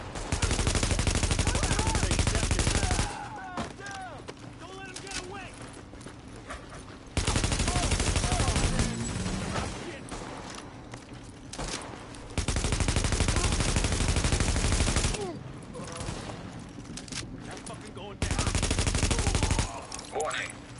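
Bursts of automatic gunfire in The Division video game, several loud sustained volleys separated by quieter stretches of game sounds, with a voice speaking in between.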